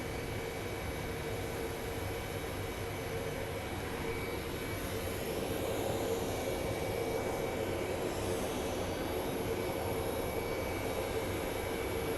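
Steady, broad roar of a jet airplane at Phoenix Sky Harbor International Airport, continuous and fairly distant, with a constant high whine over low rumble and no voices.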